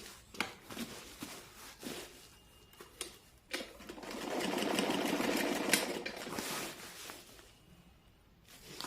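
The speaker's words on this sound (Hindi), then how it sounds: "यहाँ से मैं लेस को रखूँगी और इस पर सीधा सीधा सिलाई लगा के आपको दिखाती हूँ" Sewing machine stitching lace straight onto the edge of a homemade table cover sewn from an old saree and dupatta, a steady close whirring run in the middle between softer handling clicks and rustles.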